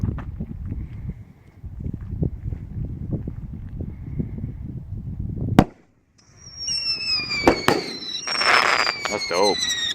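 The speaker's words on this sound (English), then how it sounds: "I'm about to do Patriotic Dominance by Dominator. It's 500 gram cake, 10 shots" A Dominator Patriotic Dominance 500g ten-shot firework cake goes off outdoors: a loud sharp launch after a stretch of low background rumble, then whistling, crackling bursts and booms that continue to the end.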